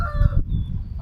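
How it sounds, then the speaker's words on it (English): Ducks honk and quack loudly up close in a messy pen, a few overlapping calls in just over a second, with no talking. "look at the ducks"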